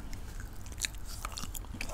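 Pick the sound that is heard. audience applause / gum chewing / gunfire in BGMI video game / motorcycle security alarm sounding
gum chewing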